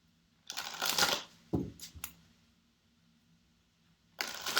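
Angel Tarot cards being shuffled by hand in a quiet room, with two longer riffling bursts at the start and end and a few short card snaps in between, close and fairly soft.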